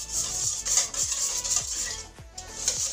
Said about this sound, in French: tu mélanges les œufs